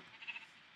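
A Minecraft sheep gives a single short, wavering bleat, faint and thin, standing alone against quiet game background.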